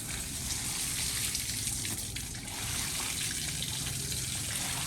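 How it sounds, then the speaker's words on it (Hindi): Water is poured onto a blanket during at-home dry cleaning, giving a continuous, close splashing and gushing wash with no talking. "उस पर पानी डालूँगी"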